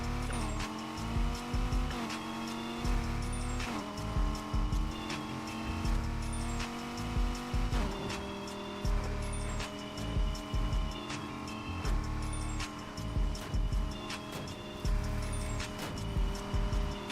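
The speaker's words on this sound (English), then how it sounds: "The car actually sounds good" A sports car engine drones steadily in Need for Speed Heat, revving up and shifting through gears repeatedly, loud and continuous with no talking.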